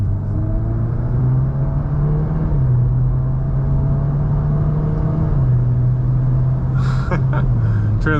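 VW MK8 Golf R pulling away under moderate throttle, a steady close engine drone rising and dipping through smooth quick gear shifts over road rumble, with a short clattering noise near the end.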